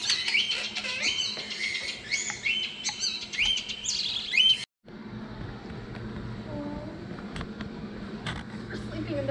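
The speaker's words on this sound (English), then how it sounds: "We've been in here for about 30 seconds and we are so close to these birds." Birds chirp close by inside the indoor rainforest exhibit at Moody Gardens, with quick high tweets scattered through the first half, partly under a person talking, followed by a quieter stretch of background noise.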